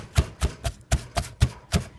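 A blender pulses the ingredients of a Haitian epis marinade in short bursts, seven evenly spaced chopping whirs about a quarter second apart, close and moderately loud with brief gaps between.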